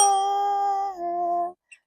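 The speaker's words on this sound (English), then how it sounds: "Ring the bell" A single bell ding that rings with clear sustained tones, shifting pitch partway through before stopping abruptly, followed by a faint brief click.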